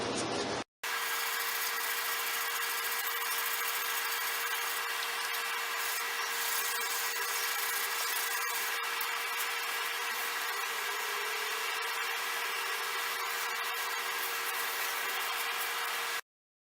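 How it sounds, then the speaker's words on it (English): A brush scrubs steadily over the metal surface of a makeshift anvil, a continuous close rasping rub with a faint underlying tone, running evenly before stopping abruptly. "I may go over it with the brush and maybe the scrubber again"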